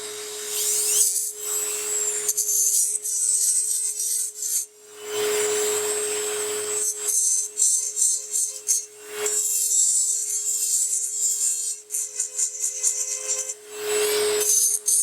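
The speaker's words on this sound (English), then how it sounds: "pear-shaped burr." A small round pear-shaped dental burr grinding excess gingiva material off a dental die, a thin high whine with scraping passes that start and stop several times, close up and steady, with no talking.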